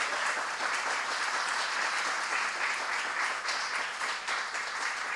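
Applause from a church women's gathering, steady and loud, with dense clapping sustained throughout and no break.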